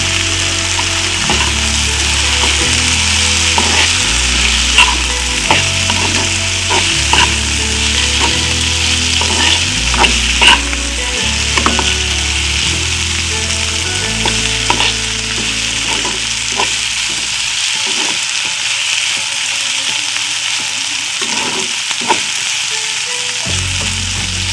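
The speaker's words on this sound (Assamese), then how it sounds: "এতিয়া মই পাস্তাখিনি ইয়াত দি পেলাই অলপ দেৰি লৰাই থাকিম।" Pasta and fried vegetables are stirred in a hot pan, giving a loud, continuous sizzle with repeated scraping strokes and occasional utensil taps, close up with no talking.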